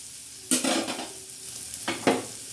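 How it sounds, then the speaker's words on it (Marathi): Spice tempering for a ridge gourd curry sizzling in a pan, with two short bursts of hissing and stirring scrapes separated by a quiet pause, close and faint overall. "आता खमंग असा मस्त असा तडका बसत आहे"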